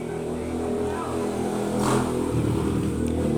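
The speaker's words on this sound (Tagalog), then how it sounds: "Marami pa rin, daming dumadaan pa rin ng motor." Steady roadside traffic noise as motorcycles pass close by, with a louder engine swell in the middle over a constant rumble.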